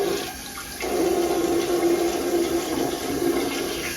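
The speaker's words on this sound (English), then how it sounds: "It flushes well." A toilet with a newly replaced fill valve and flush valve flushes close by, water rushing loudly and steadily into the bowl after a brief quieter start.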